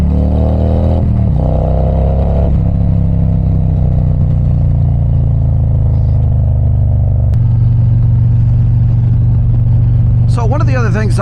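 A motorcycle engine fitted with a Chromeworks 2 into 2 exhaust, a loud steady rumbling idle close by that shifts pitch partway through, with a voice speaking briefly near the end.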